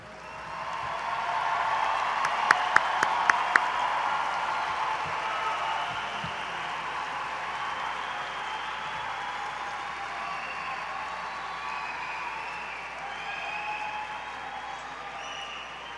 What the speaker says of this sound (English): Would you please join me in another round of applause for our graduates?